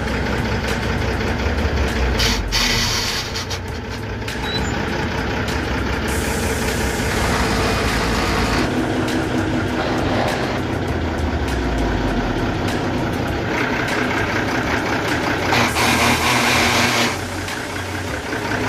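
Tata 1613 Turbo truck engine running with a faulty clutch pressure plate, a steady rough mechanical drone with rattling and shifting noise bursts, heard close and alone without talk.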